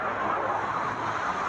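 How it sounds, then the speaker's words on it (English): Road traffic near Blue Bell Hill, a continuous broad rumble and hiss of passing vehicles at moderate loudness, steady with no talking. "Now, you might be able to hear the traffic noise"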